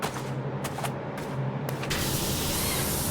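A pressure washer spraying in the Powerwash Simulator video game, a loud continuous hissing jet with a few short bursts early on before a steady unbroken spray.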